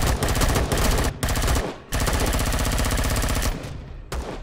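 Gunfire in the video game Empyrion Galactic Survival, with sustained loud bursts of rapid automatic fire broken by short pauses, close and dominant with no talk.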